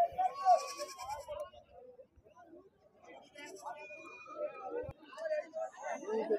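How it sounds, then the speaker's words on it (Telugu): Nellore Jodipi sheep in a small flock of ewes and lambs give a few bleats, some near and some farther off, mixed with people chatting nearby. "నెల్లూరు జుడిపిగోళ్ళు ఇవి."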